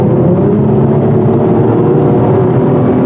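A turbocharged engine in a 2021 Acura TLX Type-S drones steadily and loudly from inside the car while accelerating, a continuous low hum and whir with no speech.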